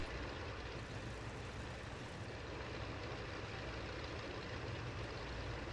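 Ford Trimotor piston engines taxiing at Salzburg in Microsoft Flight Simulator, a steady, dense multi-engine drone that holds level and close throughout with no talk over it.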